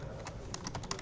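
Computer keyboard typing during a game developer's livestream, about ten quick soft clicks in an irregular burst, close and fairly quiet over a low room hum.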